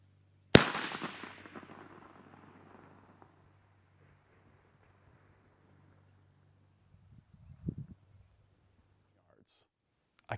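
A long-range rifle shot fired at a steel target 1,000 yards away: one sharp, loud report with a long decaying echo, then after about seven seconds a faint, distant impact returns.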